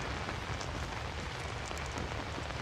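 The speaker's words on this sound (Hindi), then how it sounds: "बारिश भी शुरू है" Rain falls in the horror video game Outlast, a steady dense hiss of drops on surfaces that runs evenly throughout, fairly quiet and without any speech.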